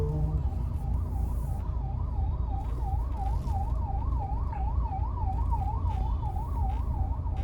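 An ambulance siren wails continuously in a steady rising-and-falling pattern over a loud rumble of road traffic on the Delhi–Dehradun Expressway.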